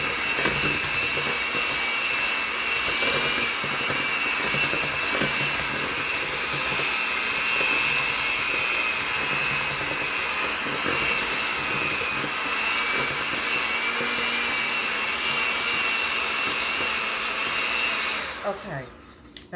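An electric hand mixer beats eggs in a bowl with a steady, loud motor whine that holds for about eighteen seconds and then stops abruptly, followed by brief quiet handling noise. The eggs are for fall apple cookies.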